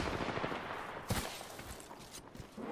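Gunfire rattles during an Apex Legends match, with several sharp shots and bursts over a dense, noisy game mix, heard at moderate distance rather than up close.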